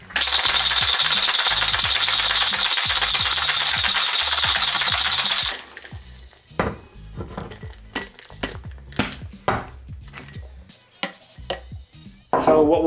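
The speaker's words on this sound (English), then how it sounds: "And we'll shake it for a good 10 seconds hard." Ice cubes rattle hard in a cocktail shaker as a Clover Club cocktail is shaken, a loud rapid clatter for about five seconds, followed by scattered clinks and knocks as the shaker is opened and set down.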